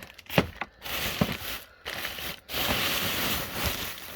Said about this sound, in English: I'm going to stick this in a plastic bag